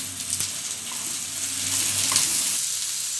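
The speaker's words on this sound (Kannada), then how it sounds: "ಕರಿಬೇವು ಸೊಪ್ಪು ಹಾಗೆ ಬೆಳ್ಳುಳ್ಳಿ ಹಾಕಿ ಫ್ರೈ ಮಾಡ್ತಾ ಇದ್ದೀನಿ ಈಗ ಈರುಳ್ಳಿ ಸ್ವಲ್ಪ ಆ್ಯಡ್ ಮಾಡ್ತಾ ಇದ್ದೀನಿ" Onion, curry leaves and garlic fry in hot oil for a Kannada fenugreek gojju. A steady, close sizzle with light stirring runs throughout without pause. No one speaks.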